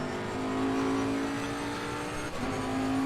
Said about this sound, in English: enjoy the car sounds